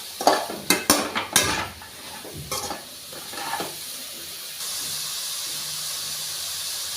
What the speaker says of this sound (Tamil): இப்போ நல்லா வதக்குங்க.